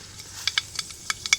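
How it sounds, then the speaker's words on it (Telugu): Mustard seeds pop in hot oil for a Telugu brinjal tempering: sharp, irregular crackles burst every fraction of a second over a soft, steady sizzle, close and fairly quiet. "ముందుగా ఆయిల్ పోసుకొని ఆయిల్ హీట్ అయ్యాక ఆవాలు వేసుకోండి"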